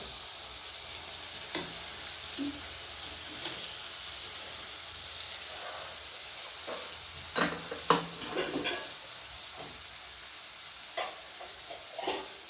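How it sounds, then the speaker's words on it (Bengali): Steady sizzling in a pan as tomato and spices are sautéed for soybean rezala, with intermittent spatula scrapes and stirring knocks throughout, close and continuous. "কিছুক্ষণ কষিয়ে নেব। টমেটোটাও দিয়ে দেবো।"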